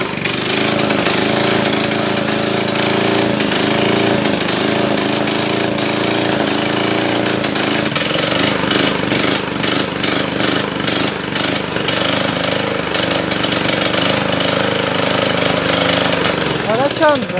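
A small go-kart engine runs loudly and continuously with a rough, buzzing drone that shifts in pitch partway through.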